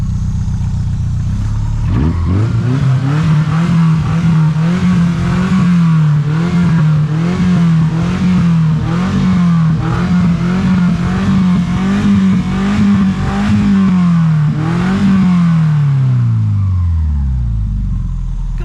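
A Subaru car engine with a newly swapped exhaust revs up and holds a loud, throaty roar with fluctuating pitch, then winds down; close and dominant throughout.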